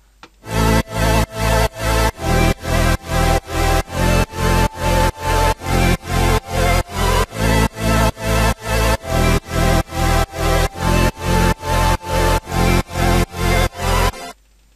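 A loud, buzzy synthesizer bass pulses in a steady rhythmic pattern of repeated chopped notes, playing alone for about fourteen seconds.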